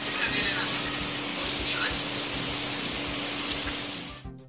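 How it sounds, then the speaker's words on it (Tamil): Floodwater from heavy midnight rain in Coimbatore pours steadily beneath a flyover, a continuous close rushing hiss with a low droning hum underneath, cutting off abruptly at the end. "மேம்பாலத்தின் கீழ் தண்ணீர் புகுந்தது."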